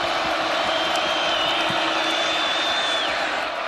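A college football crowd at Arrowhead stadium, Kansas hosting Colorado, roars continuously as a dense, loud wash of massed voices from a large distance.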